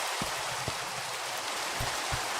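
Rain falling in Minecraft, a steady broadband hiss with scattered low droplet thumps, heard alone without any talk.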